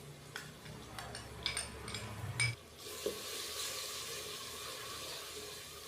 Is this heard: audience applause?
no